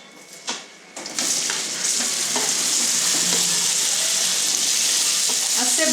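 Onion pieces dropped into melted butter flavored with cardamom in a pan, making a steady close sizzle and frying hiss after a brief clatter at the start, continuing without a break.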